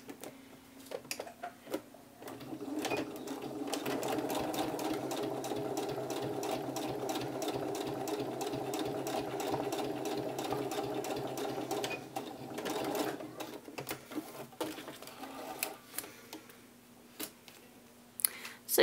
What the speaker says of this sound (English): just stitch a little U-shape along the bottom of each of our tail feather pieces in our contrasting thread